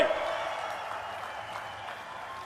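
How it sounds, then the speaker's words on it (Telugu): An audience applauds Narendra Modi at a public event, a broad wash of clapping that starts strongly and stays steady, slightly easing, with a voice briefly heard at the start. "గట్టిగా చప్పట్లు కొట్టి నరేంద్ర మోడీ గారిని అభినందించాలి"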